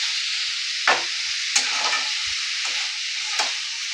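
Chicken mince fries gently in a pan over low heat, giving a steady close hiss of sizzling broken by several scraping stirs of a spatula, with no one talking.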